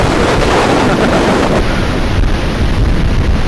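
Strong wind blowing through trees outdoors, a loud, continuous roaring rush with heavy buffeting against the microphone and no talking.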